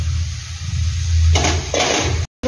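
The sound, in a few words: potatoes added to a pan of frying spice paste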